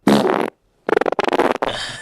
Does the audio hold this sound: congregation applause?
no